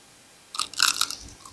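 A single crisp bite into a fried banana fritter coated in flour batter, followed by a few crunchy chews, close and clear against a quiet background.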